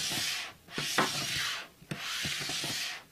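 Milwaukee M18 FPS55 plunge saw gliding along a pair of joined guide rails, smooth scraping slides in three sweeps with short pauses between, close and alone.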